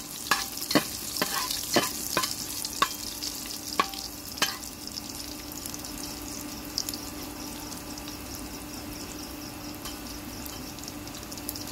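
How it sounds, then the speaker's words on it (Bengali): Panch phoron spices fry in a pan while a spoon stirs them, first with a run of sharp scraping clicks, then a steady, close sizzle with no talking. "পরিমাণ মতো পাঁচফোড়ন দিয়ে দিলাম। ভালো করে নেড়ে দেবো।"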